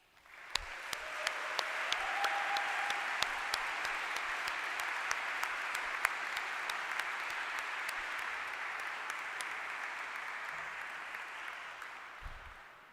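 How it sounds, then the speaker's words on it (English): Steady applause from an audience at a university physician assistant graduation honors ceremony, fairly even and moderately distant, swelling in and fading out over several seconds with a few sharper individual claps. "We applaud you."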